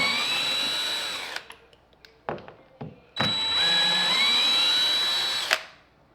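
A power drill drives screws into a door hinge, whining in two long close bursts with a few short clicks and taps between them, and no talk.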